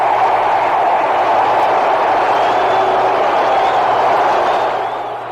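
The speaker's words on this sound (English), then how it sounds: "The ball, it soars. The crowd, it roars." A ballpark crowd roaring after a home run by Scott in a 1967 Boston Red Sox game, a dense, loud, sustained cheer that holds steady and then begins to fade, with no clear voices over it.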